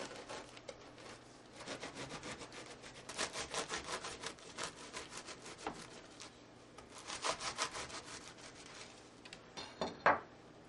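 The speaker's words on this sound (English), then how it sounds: "we're going to cut it diagonal, going in the opposite direction" A knife saws diagonally through a loaf of Swiss criss cross bread with repeated faint back-and-forth rasping strokes, growing a bit stronger toward the end.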